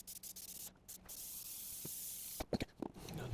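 Long hissing bursts of spray adhesive being applied to carpet vinyl for a 1967 Spitfire MK3, loud and close, broken by short pauses and a few handling knocks near the end.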